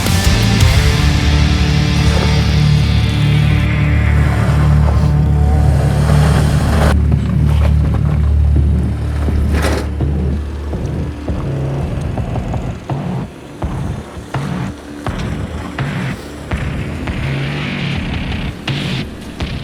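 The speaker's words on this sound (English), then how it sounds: "there is a lot of muck here which actually tests the traction on offer from these SUVs" SUVs driving off-road through deep mud, engines loud and close with revving surges and a continuous drone that thins out midway into rougher, choppier motor and splashing noise.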